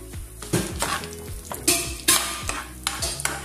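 Cashew nuts fry in a pan for chicken dum biryani, a close crackling sizzle broken by repeated scraping stirs of a spoon against the metal.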